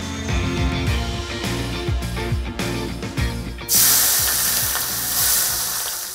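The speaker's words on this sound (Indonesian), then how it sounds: "Sekarang tumis bumbu halusnya." Garlic, candlenut, pepper and kencur spice paste sautéing in a pan, with a steady sizzle, stirring scrapes and rhythmic music throughout, then a louder burst of frying hiss near the end.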